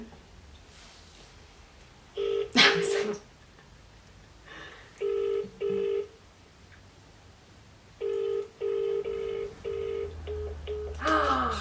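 Telephone keypad tones beep in short clusters, a few evenly spaced dialing tones, then a pause and a longer run of beeps, close and clear with faint background noise.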